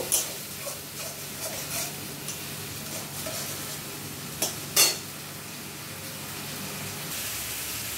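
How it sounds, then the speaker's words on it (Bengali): Spice paste with salt sautéing in oil in a pan for egg kofta curry, a soft steady sizzle with scattered scraping and stirring clicks and a couple of sharper utensil knocks, close and fairly quiet with no talking. "এবার এই মশলাটা খানিকক্ষণ কষিয়ে নেব"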